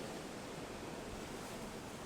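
Steady broadband wash of ocean surf breaking on the beach at Noosa, a continuous even roar with no distinct individual wave crashes, heard alone without voices.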